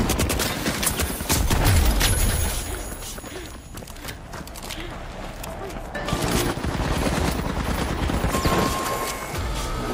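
Chaotic video game firefight with a Model 1887 lever-action shotgun among constant, overlapping gunshots and blasts, loud and dense throughout, with a voice speaking underneath at times.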